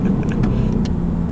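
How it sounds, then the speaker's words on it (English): A 2018 Ford Mustang GT V8 with automatic transmission makes a rev-matching downshift, a deep steady engine rumble heard up close, loud and continuous with no talking. "Another rev matching downshift."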